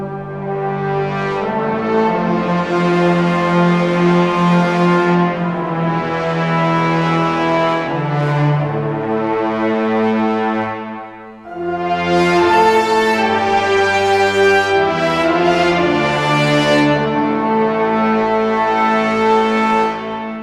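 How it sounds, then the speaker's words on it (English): Sustained orchestral chords from a sampled Hollywood fantasy orchestra library with a deep, held low brass layer, rich and continuous, dipping briefly midway before swelling back in. "It's added a low brass sustain as well"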